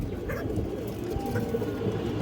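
Silver khaki pigeons coo in low, soft murmurs that run continuously under a steady bed of background noise, close by and moderately loud, with a couple of faint higher chirps.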